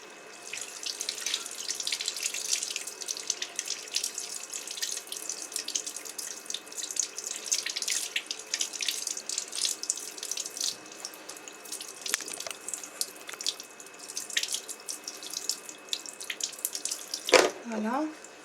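Makeup brushes are rinsed under a running tap, giving a steady hiss of flowing water and splashing that continues throughout, ending in a sharp, louder splash burst near the end, with no talk.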